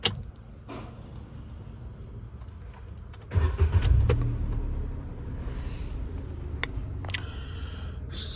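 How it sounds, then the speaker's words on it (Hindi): A 2023 Maruti Suzuki WagonR CNG with about 35,000 km cranks and starts with a short loud burst around the three-second mark, then settles into a steady low idle heard from inside the car, with small clicks and no talking. "और अब मैं गाड़ी को करूँगा स्टार्ट"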